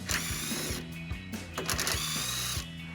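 A socket adapter with a 10mm socket on a power driver loosens a bolt on a 2019-2021 V8 Silverado 1500, a steady close whirring drone with short rhythmic pulses throughout, no talking.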